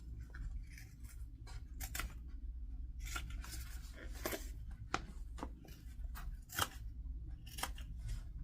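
Scissors snip around the curved corners of fabric in short crisp cuts, irregular and close, with soft rustling of cloth between cuts and no talking.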